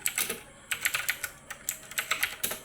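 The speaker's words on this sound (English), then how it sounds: "now to create a password you have to type in Norton password generator" A computer keyboard is typed on at a steady, quick pace, its light plastic key clicks coming in small clusters. It sounds faint and close, with no voices.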